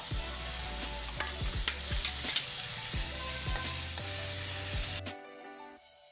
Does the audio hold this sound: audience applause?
no